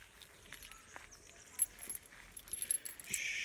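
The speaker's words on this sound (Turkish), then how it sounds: "Şöyle bir anahtarımız var." Car keys for a 2017 Toyota Corolla 1.33 jangle and clink in short bursts, fairly close, with light handling noises and a faint high whine in the background.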